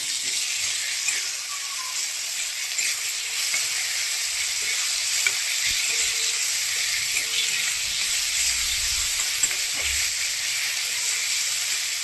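Tomatoes sautéing with onion-garlic masala, red chilli powder and mutton masala in a pan, giving a steady close sizzle and hiss for the whole stretch with a few soft scraping stirs.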